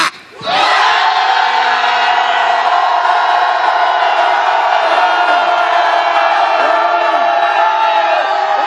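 A large crowd at a patriotic street rally in Korea lets out a sustained, loud collective roar, starting abruptly and holding steady for several seconds as a single massed shout.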